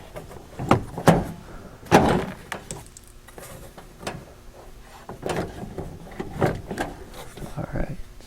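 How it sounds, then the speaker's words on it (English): Plastic lower door panel clicking and knocking into place on a 1981-1988 Chevrolet Monte Carlo door, with several sharp close thumps and snaps spread through the clip between quieter handling noises. "we're just going to put the lower door panel back here"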